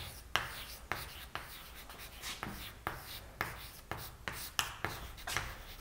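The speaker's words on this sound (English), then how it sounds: "So let me just write this here again." Chalk or marker writing on a board during a lecture, a series of quick taps and scratchy strokes in an irregular rhythm, close and fairly quiet with no speech.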